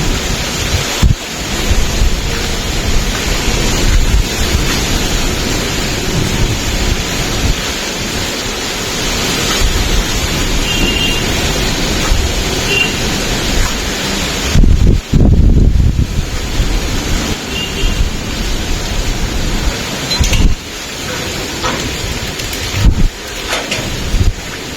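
Heavy monsoon rain with hail pours down in a loud, continuous roar, buffeted by wind and broken by a few sharper bursts, with no voices.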